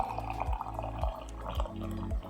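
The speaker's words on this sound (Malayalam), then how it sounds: "ഡിസ്പെൻസറിന് വെള്ളം" Water from an office water dispenser pours in soft, regular gulping pulses, each about half a second apart, quiet and close with no talking.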